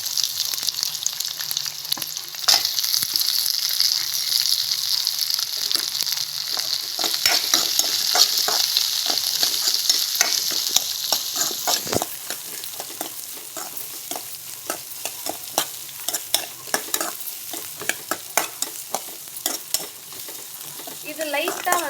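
Onions for a hotel-style channa masala sizzle steadily in a hot pan, with frequent close scraping and stirring strokes throughout and no talk.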